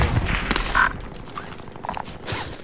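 Rapid machine gun bursts crackle in a first-person shooter, sharp broadband rattles in short clusters with brief gaps, loud and close, with no talking over them.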